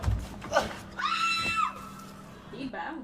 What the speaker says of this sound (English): Did somebody scream for real?